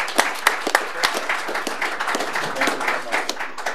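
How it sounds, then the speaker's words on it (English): An audience applauds the ambassador at a panel event on Ukraine's crisis and Russian policy, a dense sustained patter of many hands clapping with a few sharper individual claps standing out. "let's give him a round of applause and thank him for his comments"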